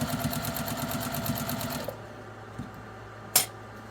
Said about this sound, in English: I'm at a 2 on my stitch length. And I'm going to back stitch a couple